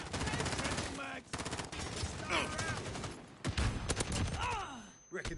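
Call of Duty Modern Warfare gunfire: dense, continuous automatic bursts with brief pauses, mixed with game effects and voices talking over the shooting.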